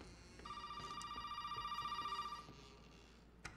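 A telephone rings in the Resident Evil 7 video game, a faint, steady electronic trill with a rapid pulsing warble that lasts about two seconds and then stops, with no talk over it.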